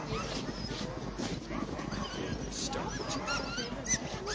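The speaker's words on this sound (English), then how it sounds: "You can hear the dogs over there getting all excited." Sled dogs at a checkpoint during a long-distance sled dog race in snowy Alaska bark and yelp excitedly from a distance, a dense steady chorus with people talking nearby.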